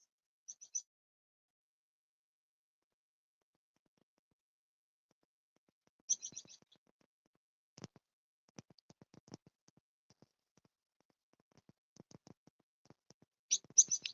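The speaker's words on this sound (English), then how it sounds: "I think that was a robin." Sparse robin chirps and short song phrases, faint and somewhat distant, separated by silence, with a brighter burst of calls near the end.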